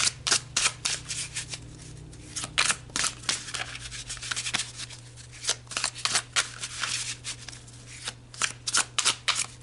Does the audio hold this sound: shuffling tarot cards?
yes